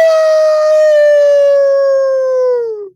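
A human voice imitates a wounded dog's howl: one loud, sustained wailing cry lasting about three seconds, slowly falling in pitch and tailing off at the end, heard alone with no other sound.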